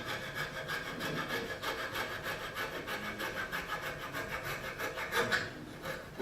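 Hand-cutting a craft flower piece with a small saw or file, steady rhythmic rasping strokes repeating close up and fairly loud, alone with no talk.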